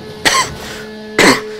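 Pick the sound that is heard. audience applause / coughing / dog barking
coughing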